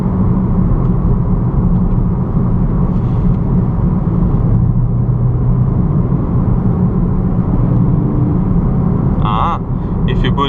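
A Skoda Octavia vRS TDI 4x4 diesel engine with DSG gearbox hums with a low, steady rumble from inside the moving car, broad road noise throughout, and a few faint clicks near the end.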